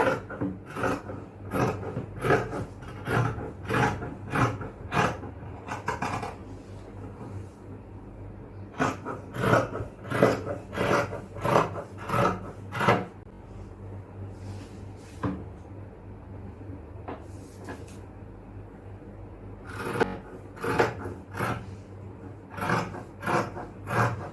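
Scissors cut fabric for a yoke nighty with repeated crisp snipping strokes in quick clusters and a few pauses between them. The cutting is close and fairly clear, with almost no talking.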